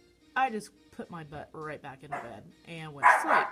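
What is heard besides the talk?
dog barking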